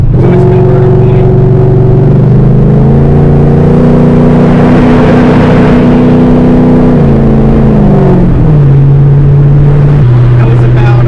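A 5th gen Camaro SS with a big-stall converter accelerating at about 40% throttle, its loud V8 drone climbing steadily in pitch, holding, then dropping as it shifts, close and continuous throughout.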